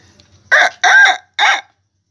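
An Ayam Pelung rooster gives a short crow in three loud, close bursts, the middle one longest, with a quiet lull afterward.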